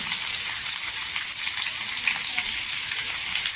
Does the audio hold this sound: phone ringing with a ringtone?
no